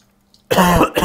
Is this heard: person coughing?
yes